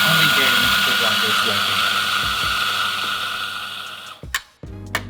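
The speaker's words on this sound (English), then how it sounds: "Now my grinder is set on grind on demand, and so if I want the grinder to operate, I need to insert my group handle" An espresso grinder running in grind-on-demand mode, triggered by inserting the group handle, gives a steady loud mechanical whir for about four seconds, then cuts off and is followed by a few short clatters.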